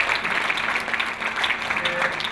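A church congregation at a pastor's retirement ceremony claps together in steady, dense applause that continues throughout at moderate volume.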